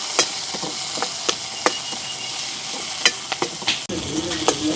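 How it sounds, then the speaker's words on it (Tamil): Onion and dried red chillies fry steadily in a pan with a continuous close sizzle, broken by frequent clicks and scrapes of stirring and a brief clatter near the end, with no talking. "இந்த வரை வந்து நாங்கள் செத்தல் மிளகாய் போட்டு தான் வறுக்க போகிறோம்"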